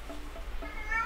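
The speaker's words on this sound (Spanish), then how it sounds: "El gato quiere comida y agua, sí." A cat meows for food and water, a short plaintive call up close over a steady low hum, with no talk over it.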